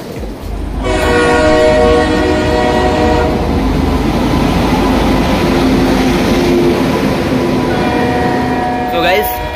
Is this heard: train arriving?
yes